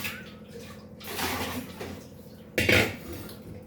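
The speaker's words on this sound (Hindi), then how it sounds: "भगोना 2 बार धोती हूँ" Dishes and a milk pot being washed by hand in a home kitchen, with clattering and scraping of metal utensils in bursts, one louder clank near the end, close and without talk.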